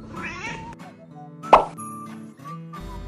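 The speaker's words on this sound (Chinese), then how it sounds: "有的猫叫着叫着就不理你了" A cat lets out a short meow amid quiet indoor sounds, with a sharp plop or knock partway through and faint room noise around it.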